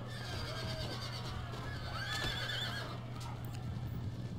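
Horses whinny repeatedly over the steady din of a cavalry clash in the strategy game Empire Total War, with hooves clopping beneath a constant battle rumble and several neighs rising clearly above it.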